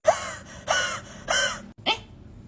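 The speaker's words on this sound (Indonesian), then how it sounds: "Itu batuk apa asma?" A person makes four short, breathy, hoarse bursts, like coughs or wheezing gasps, spaced about half a second apart, close and alone.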